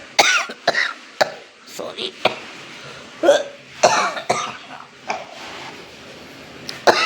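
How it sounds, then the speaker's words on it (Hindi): A person coughs several times in short bursts between stretches of their own talking, close to the microphone, in an indoor setting. "वो खांसी हो जाती है मेरे को ना"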